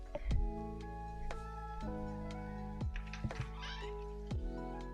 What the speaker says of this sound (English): Oh, I gotta let the cat out.